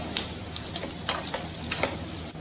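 Onions fry in a pan for a spicy stuffed potato roll, giving a continuous close sizzle broken by a few light stirring scrapes, with no one talking.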